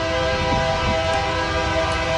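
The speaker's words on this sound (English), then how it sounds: "here comes the BNSF tanker train" A BNSF tanker freight train led by locomotive 4013 passes in the Puget Sound area with a loud, continuous rumble and sustained horn-like tones throughout.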